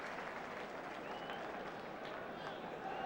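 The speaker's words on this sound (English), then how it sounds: "Well, that's brought the crowd to life," Football crowd at an Aston Villa v West Ham United match applauding and stirring after a near miss by Villa, a steady broad wash of clapping and crowd noise throughout.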